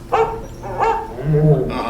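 A dog barks close by in a few short, yappy bursts, with a whiny, tonal edge.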